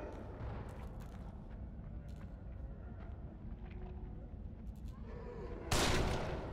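Sniper rifle fire from the video game The Evil Within sounds out in sharp, separate cracks over a murky in-game ambience, with one loud, abrupt blast near the end.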